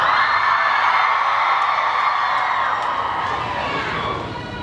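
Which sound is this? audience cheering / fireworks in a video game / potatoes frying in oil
audience cheering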